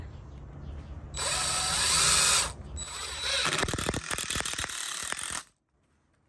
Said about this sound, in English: I go ahead and I run 2 screws in it